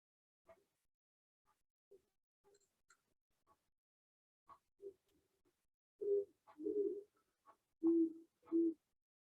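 An owl on Cape Cod calls in soft, low hoots, with scattered faint notes early and then several stronger hoots in close succession, clear and alone against a quiet background.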